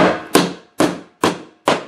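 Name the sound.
hammering a nail into wood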